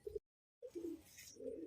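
A pigeon gives soft, low, faint coos: one brief call, a short silence, then two more drawn-out coos close by.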